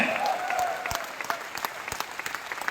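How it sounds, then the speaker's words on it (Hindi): An audience at a motivational talk gives a speaker a welcoming round of applause, dense at first, then thinning into scattered individual claps toward the end. "जोरदार से तालियां से स्वागत करेंगे"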